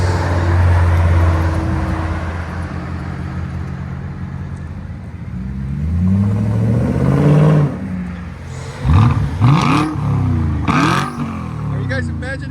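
A 2008 Volvo S80 with a 4.4L V8 and muffler delete idles with a deep rumble, then revs up loudly several times in sharp rising bursts, close by, with people talking over it.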